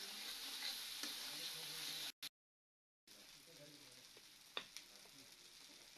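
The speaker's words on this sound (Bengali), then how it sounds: "লবণ হলুদ দিয়ে ভালো করে মশলাটা একটু কষে নিব" Spice paste with salt and turmeric frying in a pan, a steady close sizzle with stirring scrapes and a few sharp clinks, broken by a brief silent gap midway.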